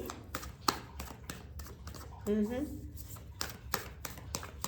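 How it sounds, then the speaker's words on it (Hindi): Tarot cards are shuffled by hand in a rapid series of riffling flicks and taps, with a voice briefly speaking in the middle. "बहुत सारे कार्ड्स एक साथ आ गए, इसलिए मैं वापस से शफल करना चाहूँगी"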